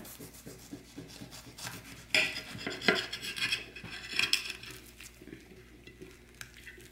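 A knife slices through a raw vegan sushi roll, making scraping, rasping cuts with a few sharper bursts of friction against a board, moderately close and without speech.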